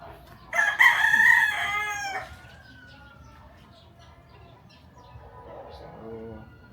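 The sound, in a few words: roosters crowing at a chicken farm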